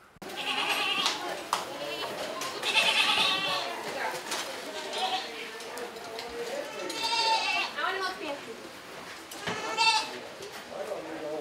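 Goats at an agricultural county fair bleat repeatedly during milking, their wavering cries close and fairly loud, mixed with people talking in the background.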